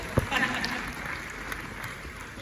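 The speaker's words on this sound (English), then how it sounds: "Another round of applause for it." A university lecture audience applauds at a public event on tax revenue, a brief, faint patter of clapping with a few sharper claps near the start.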